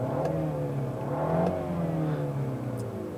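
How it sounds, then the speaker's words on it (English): A 2018 Mini Cooper Clubman S turbo four-cylinder engine hums and revs moderately, pitch rising and falling in smooth sweeps, heard from inside the car at a fairly quiet level. "The engine itself, it sounds like a typical turbo 4-cylinder."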